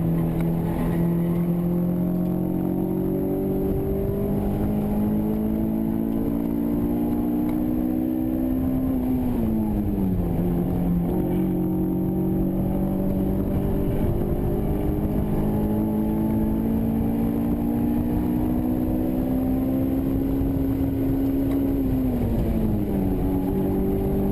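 A Honda S2000 is held flat out through a sweeping turn at an SCCA time trial, its engine note loud and steady from inside the car, pitch rising and dipping briefly twice as it carries speed through the corner.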